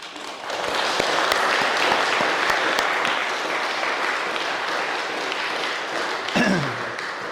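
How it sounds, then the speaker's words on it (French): Sustained applause from a gathered audience at the inauguration of a renovated Protestant temple, steady and dense for several seconds before fading slightly, with a brief low sliding sound near the end. "Et je pense qu'on peut les applaudir."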